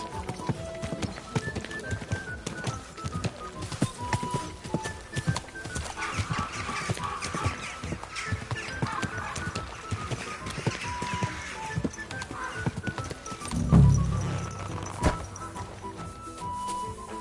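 Continuous rhythmic clopping of horse hooves at a walking pace in the video game Kingdom Come: Deliverance II, with a brief low snort or thump near the end.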